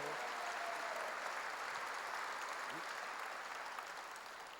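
A church congregation applauds during a sermon, a dense, steady wash of clapping from many hands that sounds somewhat distant and soft and tapers slightly at the end.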